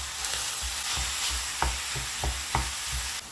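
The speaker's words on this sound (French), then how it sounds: "je rajoute la viande hachée" Minced meat sizzles steadily in a frying pan while a utensil stirs and scrapes through it, with several sharp scraping strokes over the continuous frying hiss; no voices.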